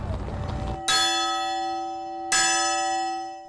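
A memorial bell tolls for fallen servicemen in Chattanooga, ringing twice, about one and a half seconds apart, each loud strike fading into a long sustained hum.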